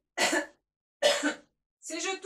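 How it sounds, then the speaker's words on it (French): A woman coughs twice in short, sharp, dry bursts, then clears her throat, close to the microphone in an otherwise quiet room. "je tousse"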